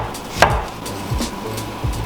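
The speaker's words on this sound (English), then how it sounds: "These are baby bella mushrooms, and so I'm thinking relatively thin slices." A knife slices baby bella mushrooms thinly on a wooden cutting board, producing three or four close, distinct knocks spaced under a second apart.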